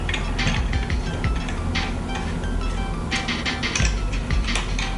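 A board being clamped into a General Tools EZ-Pro dovetail jig, with close, repeated metallic clicks and ratcheting turns over a low mechanical rattle, loud and without speech.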